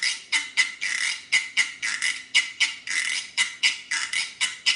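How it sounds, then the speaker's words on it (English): A güiro, a ridged natural gourd, is scraped with a stick in quick rhythmic strokes, each a raspy burst with brief gaps, heard close and alone. "They cut ridges in it like this, and then you take this stick and you scrape it across the ridges."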